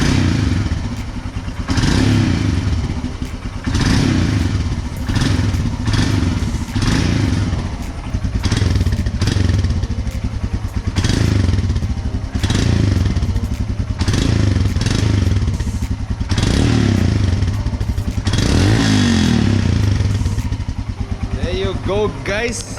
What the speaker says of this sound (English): ऐसे ही आप लोगों को मिलेगा हिमालयन का एग्जॉस्ट नोट.